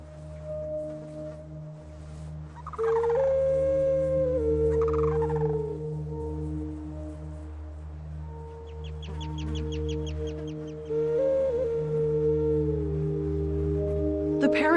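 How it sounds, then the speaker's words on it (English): Unhatched chicks call from inside their eggs at an Arctic tundra nest, giving thin, repeated high peeps and short rising and falling chirps in a few bursts over a steady low hum. "the chicks will call from inside before they hatch."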